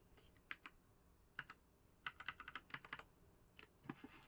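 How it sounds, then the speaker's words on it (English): Arrow keys on a computer keyboard are tapped in quick, quiet clusters of light clicks, close by and with no voices. "I'm pressing the arrow keys on my keyboard to do this"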